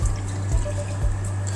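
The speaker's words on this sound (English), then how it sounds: "Once it gets to 120, you should have hot water starting to appear here," Hot water running steadily from a faucet in a 2023 Grand Design Solitude 310GK fifth-wheel RV, a constant close rushing stream with a low hum beneath and no talking.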